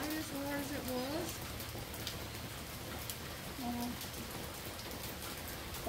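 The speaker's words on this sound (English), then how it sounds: "See, the water's kind of dripping. It's not raining" Rain falls outside with dripping water, a soft continuous patter and hiss beneath brief tonal voice-like sounds.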